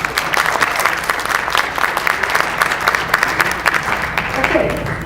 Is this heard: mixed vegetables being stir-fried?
no